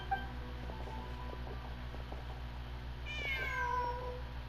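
A cat in Genshin Impact lets out a single drawn-out meow near the end, over a steady low hum and soft game background tones.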